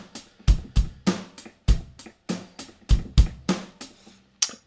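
Rock drum beat programmed in GarageBand, with punchy kick, sharp snare hits and steady closed hi-hat eighth notes in a tight repeating groove, close and dry with no talk.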